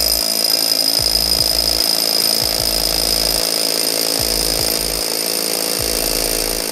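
A Hilti TE 60-22 cordless rotary hammer drills with a 40 mm bit, a loud, close, continuous motor whine over a rapid hammering rumble that stutters in short breaks, with no talking.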